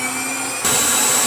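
A pet grooming blower drying Hershey, a dog, in a grooming shop switches to a louder, harsher high-pitched rush partway through, a steady airy roar with a constant whine.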